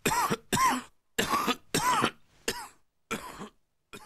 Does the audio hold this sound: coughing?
yes